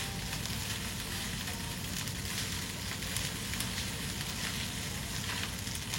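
Steady, dense sizzling of Indonesian fried rice (nasi goreng) in a hot pan, a continuous crackling hiss with no talking.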